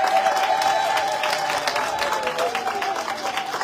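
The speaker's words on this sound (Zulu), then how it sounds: "Phela sishaya ihlombe elikhulu kunaleli shayela upresident." Applause for the IFP president at a gathering, steady crowd clapping of moderate loudness that holds throughout and tapers slightly toward the end.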